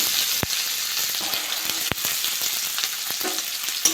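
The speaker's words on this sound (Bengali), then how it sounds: "পেঁয়াজটা একটু ভেজে নেব" Onion fries in oil with whole cumin seeds and a bay leaf, left in the pan after frying tilapia. A steady close sizzle carries through, broken by two sharp clatters from the pan.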